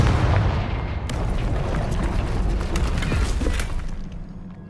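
A Confringo fire spell in Hogwarts Legacy lands with a heavy, booming explosion, a loud deep rumble followed by crackling debris that fades out over a few seconds.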